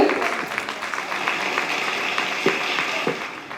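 Audience applause for a team on a stage at a Tamil event, a dense, steady wash of many hands clapping at even loudness throughout, with a few sharper claps standing out near the end.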